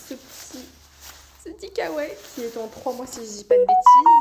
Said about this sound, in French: Pardon pour la petite sonnette.